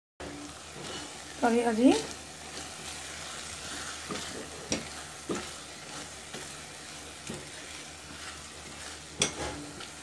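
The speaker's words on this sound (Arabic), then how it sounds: "هنحطهم بقى في الصلصه، نحطهم كلهم في الصلصه اهو" Sausages dropped into sauce in a frying pan sizzle and bubble, with a louder burst early on and scattered scraping stirs, under a person talking.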